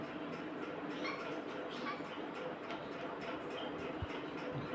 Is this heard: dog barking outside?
yes